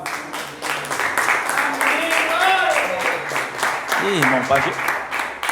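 Church congregation clapping during a worship service, a steady rhythmic patter of many hands running throughout, with someone speaking and calling out over it.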